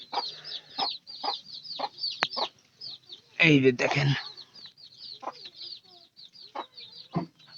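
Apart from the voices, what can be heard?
chickens clucking, hens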